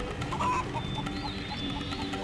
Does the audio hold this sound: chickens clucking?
yes